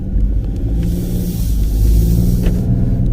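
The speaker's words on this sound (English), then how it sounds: "Maybe hear what the engine sounds like." A Ford Bronco Sport Big Bend with a 1.5-liter EcoBoost engine being driven, heard as a steady deep engine rumble with road roar and a faint hiss of wind inside the cabin, loud and continuous with no talk.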